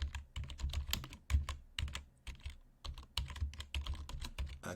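Close, quick typing on a computer keyboard, with irregular bursts of crisp key clicks and short pauses between them, and no voices.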